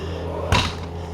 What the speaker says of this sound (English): Let's close the bathroom door.